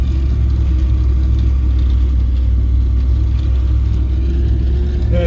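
A Ford Explorer with a V8 swap, one-ton axles and a reverse manual valve body crawls in low gear through snow on a trail, its engine giving a loud, steady, deep rumble close up with no talk.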